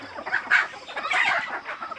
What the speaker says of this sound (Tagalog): Mag-abot ta sa tuang mga binuhi nga mga manok.